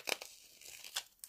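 Short crinkly tearing and crumpling bursts of aluminium foil being cut, a few quick rips close up with brief quiet gaps between them.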